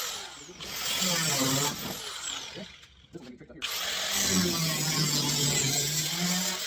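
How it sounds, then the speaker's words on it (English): A handheld power grinder cuts metal close by in a shop, whining loudly in a long pass, pausing briefly, then spinning back up into a sustained cutting whine. "Grab one of my grinders here."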